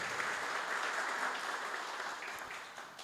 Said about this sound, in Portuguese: Palmas de novo para todo mundo